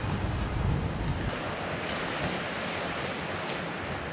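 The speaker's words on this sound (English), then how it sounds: "you listen to the waves gently crashing there on the rocks beneath your picture" Atlantic Ocean waves crash on coastal rocks below a clifftop trail, a steady broad wash of surf with wind, no voices.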